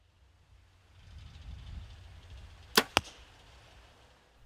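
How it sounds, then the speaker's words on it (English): A compound bow with a very dead-in-hand feel is shot outdoors: a soft low rumble builds, then a sharp twang and a quick second crack ring out close, followed by quiet. "As far as a bow shoot, this is a very dead-in-hand bow."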